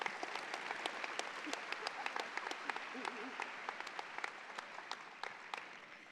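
A modest audience claps at a Villanova School of Business preview day presentation, individual hand claps clearly separate and sustained at a moderate, fairly distant level, with faint voices underneath.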